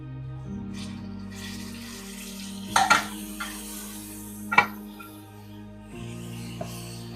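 Bay leaf, green chilli and mint dropped into hot oil for chicken biryani: a low steady sizzle with two sharp bursts of scraping and clatter as ingredients go in and get stirred, close by.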